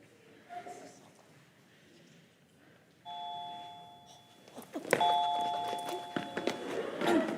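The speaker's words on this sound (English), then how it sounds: "Please just ring the bell." A doorbell rings indoors, a single chime tone followed by a clearer two-note ding-dong, with rustling and footsteps around it and faint voices in the background.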